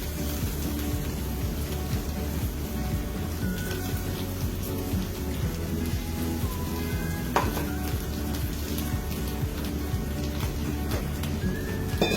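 Masala paste sizzles steadily in a hot pan as it is sautéed, a dense continuous frying crackle with occasional scrapes of stirring, close and fairly loud with no talking.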